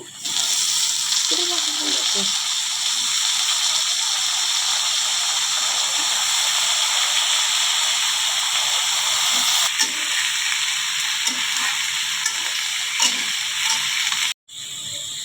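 Eggplant pieces sizzle steadily in hot oil in a pan while hilsa is being cooked, a continuous broad frying hiss with occasional stirring clatter, close and loud throughout before a brief cut near the end.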